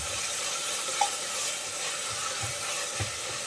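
Onions with salt sautéing in a pan for soya chunk biryani, a soft steady sizzle with a few faint stirring scrapes, close and alone.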